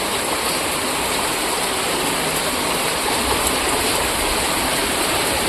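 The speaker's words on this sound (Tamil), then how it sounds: "சரியான மழைங்க." Heavy rain pours steadily during a flood in Coimbatore, with floodwater rushing past in a loud, unbroken roar that holds constant throughout, no voices heard.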